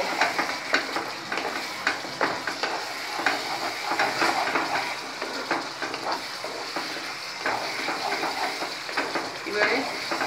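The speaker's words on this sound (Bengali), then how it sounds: "ভালো করে মশলাটাকে কষাবো।" Spice paste with cumin powder sizzles and fries in a pan while being stirred, with steady crackling and repeated scraping strokes close up, a voice speaking faintly underneath.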